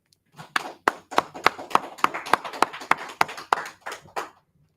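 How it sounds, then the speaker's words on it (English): Class clapping together at a law class, about fourteen sharp claps in a steady, slightly accelerating rhythm, close and fairly loud, with no talk over it. "All right, clap it up."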